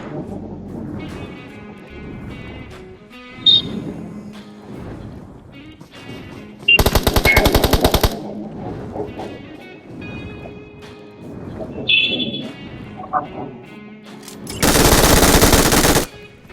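Machine gun fire in BGMI PUBG Mobile, two loud sustained bursts of rapid shots, the first shorter and the second longer, between quieter game sounds and someone talking.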